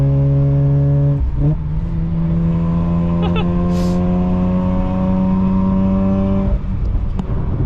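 A Mazda RX-8 with its rotary engine revs hard while driving, its tone rising in steady stepped pulls with a brief gear-change dip, loud and close throughout.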